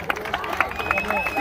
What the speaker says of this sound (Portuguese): uma salva de palmas aí para os meninos do Bela Vista